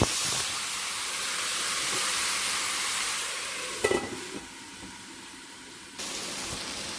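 Tomatoes cook in a covered pan for Mumbai-style pav bhaji, giving a steady close sizzle and hiss of steam with a brief clatter partway through.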